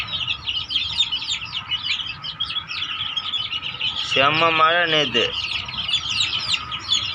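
Chickens cluck and chicks cheep continuously close by, drying on cardboard after rain, while someone speaks briefly partway through.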